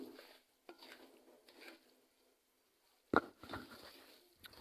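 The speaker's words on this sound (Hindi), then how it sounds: "साथ साथ हम इसमें चम्मच चलाते रहेंगे ताकि ये जले नहीं" Semolina halwa stirred with a spoon in a pan over a medium-low flame, quiet intermittent scraping and a sharp clink of metal, with gaps of near silence between strokes.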